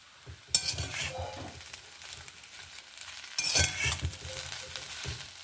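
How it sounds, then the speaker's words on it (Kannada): Raw banana pieces sizzle and roast in coconut oil over a low flame, with a steady fry hiss that is broken by louder bursts of stirring and the scrape and clink of a utensil against the pan. "ಇದನ್ನು ಸಣ್ಣ ಬೆಂಕಿಯಲ್ಲಿ ರೋಸ್ಟ್ ಮಾಡ್ತಾ ಇಲ್ವಾ"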